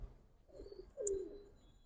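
A female black-beaked Giribaz pigeon from Old Dhaka gives a soft, low coo, one short rolling phrase heard close and faint against a quiet background.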